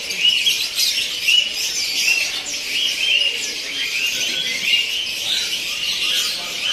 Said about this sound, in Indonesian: dua perkutut satu kerucuan saja sudah cukup untuk meramaikan depan kamar pasturan Wonogiri